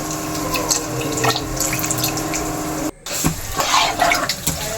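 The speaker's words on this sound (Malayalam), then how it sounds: "അതിനുശേഷം പാൽ ഒഴിച്ചു കൊടുക്കുക മിൽമയുടെ പാലാണ് നമ്മളിവിടെ യൂസ് ചെയ്യുന്നത്" Milma milk pours steadily into a pot of broken-wheat payasam, a loud, close, continuous liquid gush that breaks off briefly partway through and then resumes.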